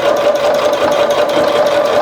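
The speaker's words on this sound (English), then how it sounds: "So again, it's just running a seam around it, flattening those seams open, doing a back stitch in them." A sewing machine runs steadily and close, with a continuous whirring hum and no pauses, as it stitches quilt seams and back stitches on a rag quilt.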